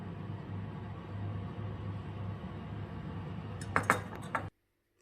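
Cutlery and dishes clink softly over a low background hum as BBQ chicken and rice are served onto black and white plates, a few sharp clinks near the end before the sound cuts out.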